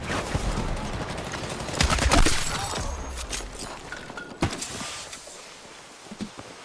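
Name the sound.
machine gun fire from a video game, Battlefield 6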